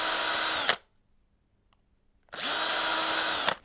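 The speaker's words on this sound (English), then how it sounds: "My next step is I'm going to drill" A power drill bores holes into a damaged GRP boat hull during a repair, two loud sustained bursts of whining motor and cutting noise separated by a stretch of near silence.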